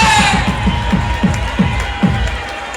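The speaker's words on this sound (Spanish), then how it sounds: "El aplauso fuerte." Crowd at a live open-air concert at the Festas San José in Teixeiro, Curtis, cheering and clapping in a steady roar, with rhythmic low thumps pulsing underneath.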